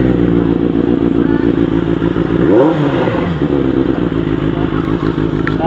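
A QJMOTOR SRK 600RR motorcycle engine runs close up with a rough, pulsing idle, then gives a quick rev that climbs and falls around the middle before settling back to idle.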